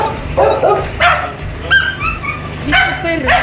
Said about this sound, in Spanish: ¿Y este perro?